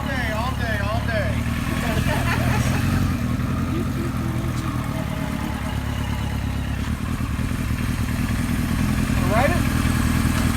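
A 1976 Kawasaki KZ900 motorcycle engine runs steadily nearby, a continuous smooth mechanical drone with light clatter, while people talk over it.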